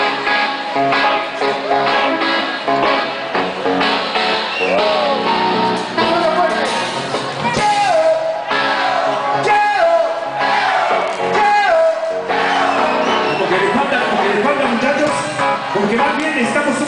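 A Mexican grito shouted over a loud, dense sonidero DJ mix, the long whooping cries and crowd-like shouts riding above pounding music throughout.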